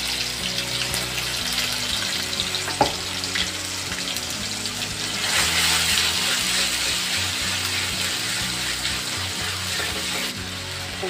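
Onion with garlic, cumin and ginger fries to a reddish colour, giving a continuous close sizzling hiss with one brief knock and no talking.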